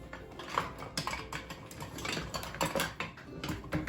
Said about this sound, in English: you slowly start mixing in the powdered sugar in with the cream cheese and the melted butter